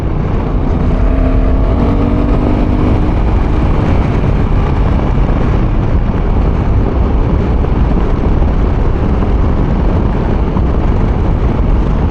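A Honda adventure motorcycle engine (NT1100 / Africa Twin / Rebel 1100T class) drones loudly and continuously, with a brief rising pitch sweep early on as the rider shifts gears with the upshifter.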